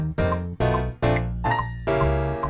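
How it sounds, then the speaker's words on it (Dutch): A virtual double bass played from a keyboard thumps out low, rounded notes in a steady walking rhythm beneath chords from a big band jingle, close and full with no voices. "Dat klinkt nu nog als een contrabas."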